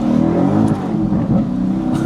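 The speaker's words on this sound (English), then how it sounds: "I'm gonna try to get it in first gear" A loud car engine revs hard in first gear close by, a dense growling roar with pulsing revs and no speech.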